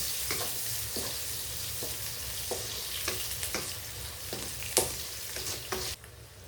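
Onions sauté in a pan for radish curry with a constant close sizzle, punctuated by regular spatula taps and scrapes, then the sound drops away abruptly near the end.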